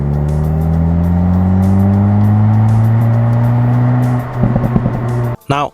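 A VW Golf 8.5 GTI drives under load, its engine droning loudly and rising steadily in pitch for about four seconds. A brief stuttering break follows, then the drone resumes and cuts off abruptly.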